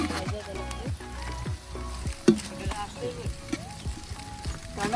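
Chopped onions sizzle steadily in a hot pan at an outdoor cookout and are turned over with a few scraping clatters, while someone speaks over the frying.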